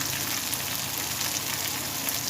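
Lamb chops frying in a pan with garlic cloves tossed on top, a steady close hiss and crackle of sizzling fat without pause.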